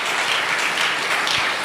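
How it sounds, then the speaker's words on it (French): A church congregation applauds, a dense, steady wash of many hands clapping together for a brief moment, with no pauses or voices rising above it. "Nous acclamons."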